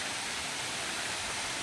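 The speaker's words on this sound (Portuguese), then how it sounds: "ver se vocês conseguem ouvir o barulhinho do rio" A river flows near a waterfall on a forest trail during the dry season, heard as a steady, soft, broadband rushing of water with no voices.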